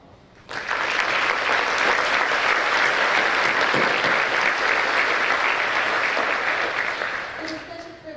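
An audience at a high school career technical education awards ceremony gives a sustained round of applause for student winners and honorees, steady dense clapping from start to near the end, with a voice briefly heard as it tapers.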